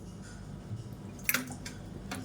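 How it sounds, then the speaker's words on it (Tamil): Water is sprinkled onto a grated radish mixture as it is kneaded by hand, a few soft wet drips and squishes, close and quiet, with one brief sharper splash in the middle. "இப்போ இன்னும் கொஞ்சம் தண்ணி தெளிச்சுக்கலாம்"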